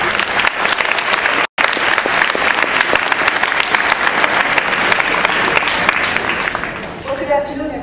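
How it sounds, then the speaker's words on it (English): An audience at a 50th anniversary celebration applauds loudly and steadily, with one instant of dropout partway, before the clapping fades out and a voice begins at the very end. "Let's give her a nice round of applause."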